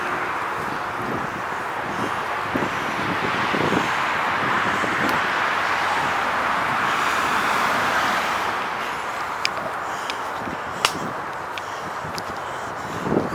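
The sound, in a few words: distant road traffic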